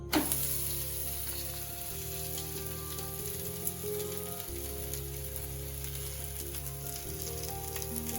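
Garlic masala porotta fries in oil on a hot pan, giving a steady, close sizzle throughout, with a low, even hum running underneath.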